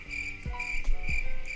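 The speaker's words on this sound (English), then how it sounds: "Had crickets." Crickets chirping as a sound effect, a steady high pulsing trill running continuously under a couple of low thumps.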